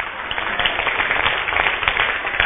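A church congregation keeps applauding the Lord during a doctrinal sermon, giving steady, crowded clapping that holds at an even level throughout, with occasional louder individual claps and faint voices mixed in.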